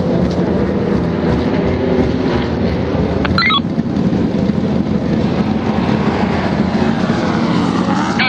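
Ford XE Falcon race car engine running loud and steady in the pit lane at the Wanneroo 300, a continuous close roar that fills the whole stretch with only a brief higher whine partway through.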